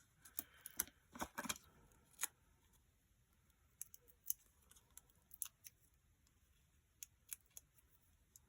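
Scissors snip through pieces of paper in a quiet room, a quick cluster of sharp cuts followed by scattered single snips, fairly close and faint.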